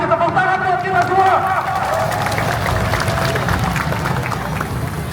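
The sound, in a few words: protest crowd applauding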